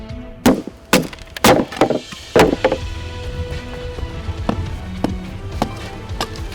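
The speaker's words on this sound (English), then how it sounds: "the machete was fantastic for batoning" Sharp, heavy wooden cracks and thuds ring out several times in the first few seconds, followed by quieter knocks and splintering sounds.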